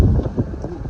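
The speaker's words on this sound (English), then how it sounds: "So windy." Wind buffets the microphone in gusty low rumbles, loud and close, as if through an open window of a moving vehicle.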